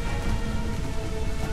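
Steady rain pouring in Assassin's Creed IV Freedom Cry, a dense even hiss of drops across the whole stretch with no breaks, heard alone.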